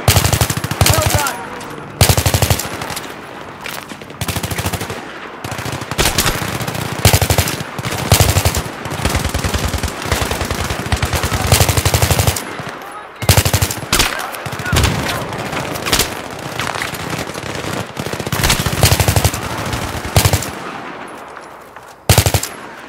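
Machine guns rattle in Battlefield 3, rapid bursts of automatic fire with short gaps, loud and close, repeating throughout amid a busy firefight.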